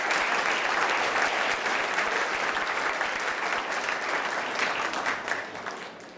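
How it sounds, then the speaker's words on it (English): A conference audience at Catalysis 2018 gives a round of applause for Dr. Renuka David after her speech on the secrets of success, a full, even burst of many hands clapping that tapers off at the close. "Can we have a round of applause for Dr. Renuka David and her awesome speech given to us today?"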